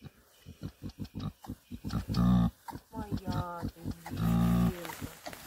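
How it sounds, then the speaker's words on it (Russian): Vocal sounds from a pig on a farm, driven out of a barn shortly before farrowing, come as a run of short grunts and then two louder, sustained squeals. A person speaks nearby between the calls. "Пошли с сарая ту свинью выгони."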